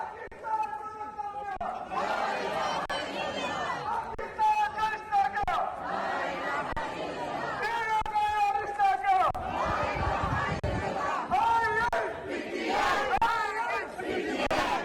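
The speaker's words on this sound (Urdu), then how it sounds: "اس موقع پر کارکنوں نے شدید نعرے بازی کی، فضا پاکستان زندہ باد اور دیگر پارٹی نعروں سے گونجتی رہی۔" Party workers protesting a Punjab deputy speaker's ruling chant Pakistan Zindabad and party slogans, a loud continuous crowd roar with rhythmic shouted chants rising and falling throughout.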